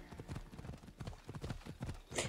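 Steady clip-clop of horse hooves trotting on a hard road in the video game Assassin's Creed Odyssey, rhythmic and even, heard close with a faint sharp sound at the end.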